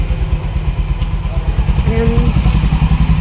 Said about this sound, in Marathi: आता आम्ही इथे बाईक लावणार